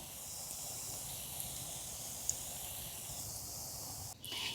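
Jhuri, a spiced fried snack, frying in hot oil as a steady, even hiss that runs unbroken throughout, with a brief dip near the end.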